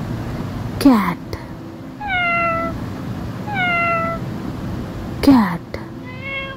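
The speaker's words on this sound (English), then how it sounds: "Cat." A cat gives two loud, drawn-out meows, close by, with softer, thinner mewing calls in between.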